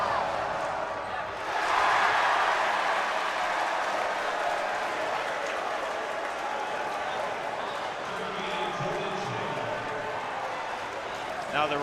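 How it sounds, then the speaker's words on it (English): A loud basketball crowd at a high school tournament game fills the gym with a sustained roar of cheering and clapping, with a commentator talking over it. "Listen to this crowd."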